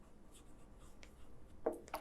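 Brief scratchy strokes of writing on a board during a school maths lesson, quiet and close, ending in a few quick marks with no talking.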